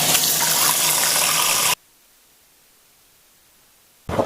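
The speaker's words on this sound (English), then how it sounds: "now we have to add in some more water" Water pours into a pot of beef in a loud, steady gushing rush that stops abruptly, followed by near silence before a brief noise at the end.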